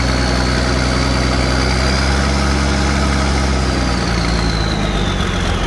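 A used tractor at an equipment sale idles with a steady, loud, low rumbling engine note, close by and unbroken, with no talk over it.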